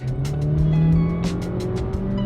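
A Cupra Formentor driving, its engine giving a steady, loud hum with a tonal drone throughout, overlaid by repeated airy whooshing bursts, close and without talk.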